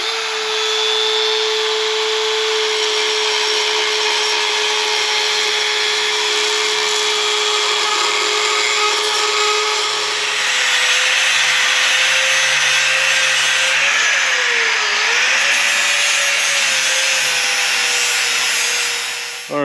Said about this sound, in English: we're going to clean it up a little bit with the grinder, and then we're going to go ahead and grind on the axle